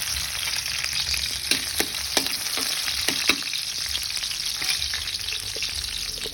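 Bitter gourd (ampalaya) frying in a pan, a steady hissing sizzle with scattered clicks and taps of stirring, close and continuous with no voices.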